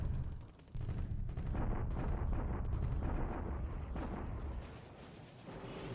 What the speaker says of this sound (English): The usual daily bombardment here.